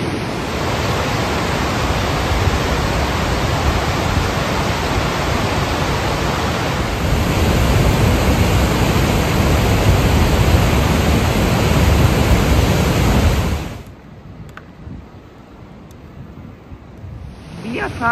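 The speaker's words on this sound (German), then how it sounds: "Der ganze Hang ist ein einziger Wasserfall, hier fließt in kleinen Bächen." Steady, broad rush of water falling down a hillside roars continuously at close range, then cuts off abruptly near the end, leaving quiet background.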